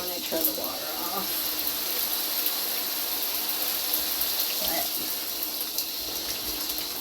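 Shower water running steadily in a home bathroom, a constant close hiss of spray with some faint clatter.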